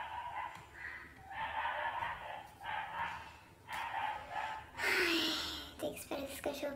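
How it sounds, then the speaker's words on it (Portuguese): A dog barks in several short bursts at a distance from the microphone, with a gasp-like breathy sound near the end and no clear speech over it. "Tem que esperar esse cachorro parar de latir."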